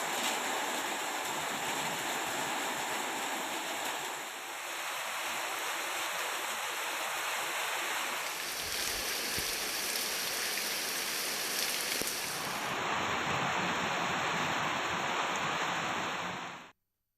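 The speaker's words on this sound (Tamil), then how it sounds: "திடீரென கொட்டிய கோடை மழை" Heavy summer rain pours down steadily around Eathamozhi and Punnai Nagar, a dense, continuous hiss of downpour lasting throughout with a brief dip midway, no voices present.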